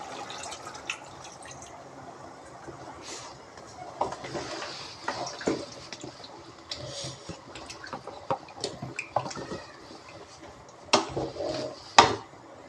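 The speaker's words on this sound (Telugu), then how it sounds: "వేసుకున్నాక ఇప్పుడు దీనికి ముక్క ములిగేంత వరకు వాటర్ అన్నది పోసుకోవాలి" Water is poured into a pot of chicken for curry, giving scattered splashes, drips and clinks that build to louder bursts toward the end, with no talking.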